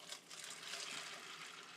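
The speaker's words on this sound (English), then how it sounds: "And to that, we're going to add 2 quarts of water." Water is poured onto dried northern beans, a faint, steady hissing splash that runs unbroken for about two seconds with no talk.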